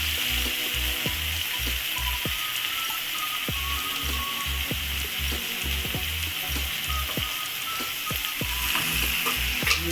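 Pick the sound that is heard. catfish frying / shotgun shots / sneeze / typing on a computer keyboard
catfish frying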